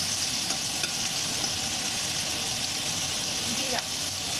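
Whole spices such as cardamom, cloves, dried red chilies and bay leaves frying in hot oil, giving a steady close sizzle with faint stirring clicks.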